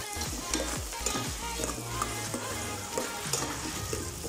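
Ground beef for giniling fries in a pan, a dense continuous sizzle with scraping stirs of a spatula repeating steadily, close and alone.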